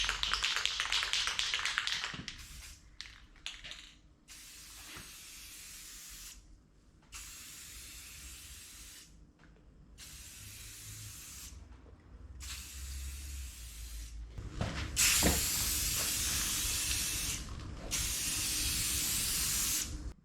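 Bursts of aerosol spray paint, silver, coating the rear frame of a 1992 Honda CBR250RR MC22, repeated hissy passes of a few seconds each separated by short pauses, close and steady, with no talking.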